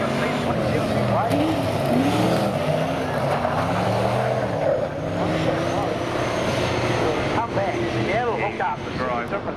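Saloon race cars roar as they accelerate off the line at a race start, several engines revving and changing gear close by in a dense, continuous wall of engine noise with no gaps.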